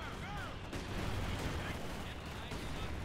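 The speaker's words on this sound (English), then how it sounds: "That was their mortars, not ours." Mortar and gun fire in the video game Company of Heroes 2, a steady rumble of distant explosions and gunfire with no voices in this stretch.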